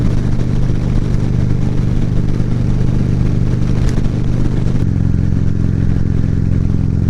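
A motorcycle rides along steadily, its engine droning loud and close with a continuous low rumble and a slight shift in pitch partway through, under wind noise and with no talking.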